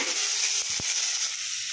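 Cabbage frying in hot oil with cumin seeds, a steady close sizzling hiss that runs throughout, with a soft clunk partway through.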